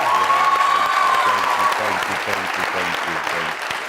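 Loud, dense applause from a studio audience at a comedy talk show fills the space, steady clapping with a crowd murmur beneath, tapering slightly toward the end.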